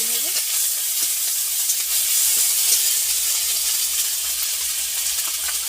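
A steady oily sizzle of onion, garlic and ginger paste frying in a pan for koi fish curry, with faint scraping of stirring throughout and no talking.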